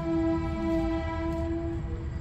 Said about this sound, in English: The Brentwood train station right behind me.